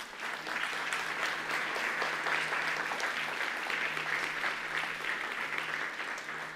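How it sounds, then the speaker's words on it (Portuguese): A church congregation claps together in sustained, dense applause that holds steady at an even volume from start to finish. "Então aplauda o Senhor."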